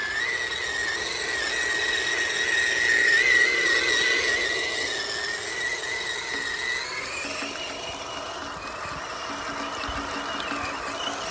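A dual-motor RC crawler spins its wheels, giving a thin, high whining squeal that rises and wavers for several seconds, then settles into a softer, steady electric whir.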